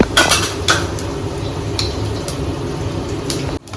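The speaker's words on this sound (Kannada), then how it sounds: "ಸಾಸಿವೆ ಹಾಕ್ತಾ ಇದ್ದೀನಿ ಸ್ವಲ್ಪ." Sizzling and crackling as mustard seeds hit hot oil in a pan while cooking paneer matar masala, with scattered sharp pops and clinks of utensils against the pan over a steady fry hiss.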